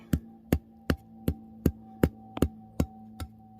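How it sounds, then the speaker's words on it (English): Steady hammer blows on a trap part, about ten evenly spaced metallic strikes close to the microphone over a faint background hum, with no talking. "So I'm gonna keep hammering."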